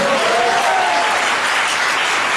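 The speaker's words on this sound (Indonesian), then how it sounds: "kurang kuat tepuk tangannya" Seminar audience in Pekanbaru breaks into applause, a dense, loud, sustained wash of many hands clapping throughout, with no talk over it.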